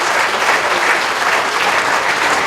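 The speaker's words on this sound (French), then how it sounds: "On peut l'applaudir très fort" Loud, dense audience applause fills the room at a round-table event as a Vendée Globe-winning sailor is introduced, steady and sustained throughout with no break.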